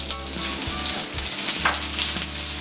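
Onion added to garlic frying in oil in a pan, a loud, busy sizzle with bursts of spitting and stirring scrapes close by.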